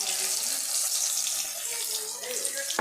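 Ground spice water pours and splashes steadily into a pot of chicken gravy, a bright rushing sound, close up, with faint speech in the background.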